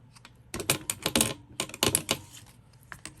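Paper is trimmed on a cutter for a mini journal, giving close, crisp scratchy cutting bursts in two clusters with a short pause between, and no talking.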